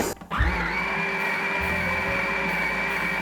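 Electric stand mixer kneading yeast dough for Polish pączki, a steady loud motor whine that starts abruptly after a brief clatter and holds a constant pitch throughout, alone without talk.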